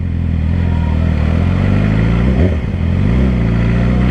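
A Yamaha R6 sport motorcycle runs on a highway, its steady engine drone loud and close throughout, with a brief rise in revs near the middle as it accelerates and no talk over it.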